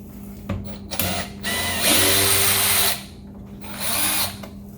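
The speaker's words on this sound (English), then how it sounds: "First, there are two screws down here underneath, and they are a T20 Torx bit." A power drill driver with a T20 Torx bit backs screws out of the lower edge of a BMW X driver's side interior door panel, close and loud, in several whirring bursts with short pauses between them.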